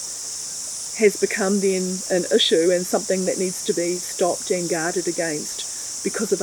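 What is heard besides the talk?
cicadas chirping outdoors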